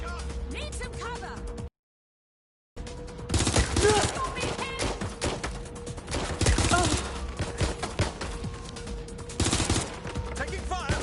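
Gunfire crackles in Watch Dogs Legion, repeated bursts of shots and rattling automatic fire at close range, cut by a brief silent gap, with a voice speaking over the shooting.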